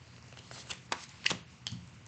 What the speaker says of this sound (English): I already did a pre-shuffle, but I still like to shuffle on camera just so you know.